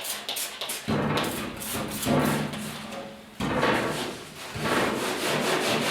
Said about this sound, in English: we're using a scuff cloth, it's actually scuffed in the paint here, getting it kind of ready for clear coat as well